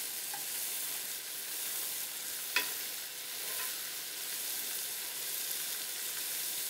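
Meatballs browning gently in a frying pan, left unshaken, give a soft, steady sizzle throughout, with one brief sharp tick partway through.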